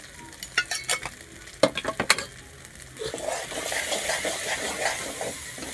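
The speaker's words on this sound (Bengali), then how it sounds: "আমার মশলাটা দেখো এত সুন্দর ভাজা হয়ে গেছে" Spices with cumin powder and Kashmiri chilli powder for a vegetable dish frying in a pan: a few sharp stirring scrapes and clinks early on, then a steady, close hiss of sizzling that builds and holds to the end.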